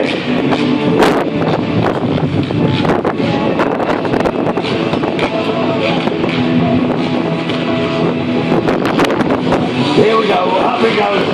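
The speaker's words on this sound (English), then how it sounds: "Very windy out there." Strong wind buffets the microphone in a constant roar at an outdoor stunt show, with people talking intermittently underneath.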